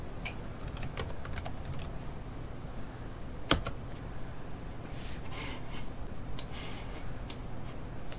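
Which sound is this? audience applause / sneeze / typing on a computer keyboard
typing on a computer keyboard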